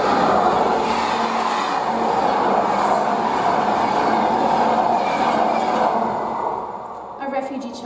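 Steady, loud rumble and hum of a crowded Keleti Railway Station in Budapest with train noise throughout, voices murmuring underneath, fading slightly near the end.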